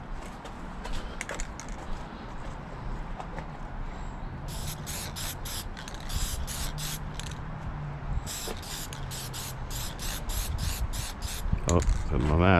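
Spray paint hisses onto a Chevrolet Caprice dash pad in a run of short, sharp bursts, clustered in the second half and sounding close, over a low background rumble.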